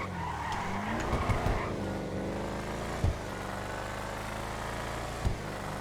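A Bravado Buffalo STX in GTA 5 drives along back roads, its engine droning steadily with tyre skids and a few short thumps, no talk over it.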